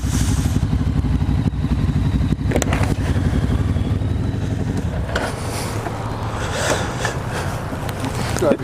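A Kawasaki Ninja 400 motorcycle rides along with a steady, close engine drone and continuous wind rush, its pitch rising and easing slightly toward the end.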